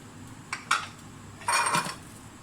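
Yogurt and ground spices are mixed into chicken for biryani, giving two brief clatters of a spoon scraping against a bowl, the second longer and louder.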